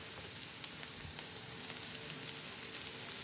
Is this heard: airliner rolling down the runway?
no